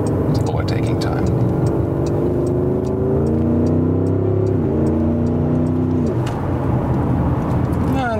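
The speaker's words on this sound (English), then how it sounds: "it's really good to have a powerful engine because then the overtaking process also goes quite quickly" A powerful SUV engine (Mercedes GLE Coupé 53 AMG, BMW X6 M50i, Audi SQ8 or Porsche Cayenne Turbo) surges loudly as it accelerates to overtake, rising in pitch as it revs through the gears; people talk over the steady engine roar.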